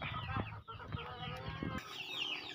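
Chickens cluck softly and intermittently nearby, short throaty calls over a low background hum that drops away near the end.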